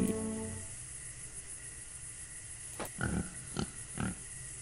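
Several short, low grunting snorts from a beetle-pig creature in a video game, spaced a second apart over a faint steady background hum.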